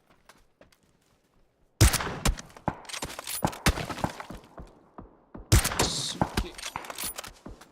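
Bursts of gunfire in the battle royale game PUBG, sharp rapid shots in two dense volleys after a quiet opening, with a short voiced curse among them.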